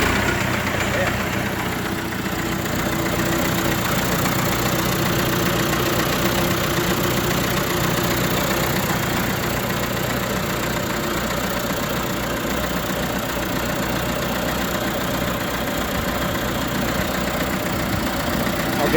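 A John Deere 450C bulldozer engine idles with a steady, throbbing diesel drone that holds unchanged and loud from start to finish, with faint talk in the background.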